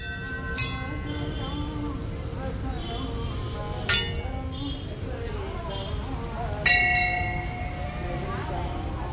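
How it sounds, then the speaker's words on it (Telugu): Metal temple bells struck at a Kali temple: three separate bright clangs, each ringing out and fading, with a steady murmur of crowd and voices underneath. "ఇక మా వాళ్ళందరూ ఒక్కొక్కరు గంటలు మోగిస్తున్నారు."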